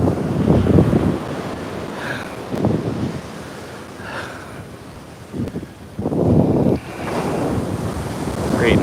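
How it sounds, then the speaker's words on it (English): Ocean waves stirred up by passing boats break on Coney Island beach, several surges of surf rolling in one after another under steady wind buffeting the microphone. "Creating waves."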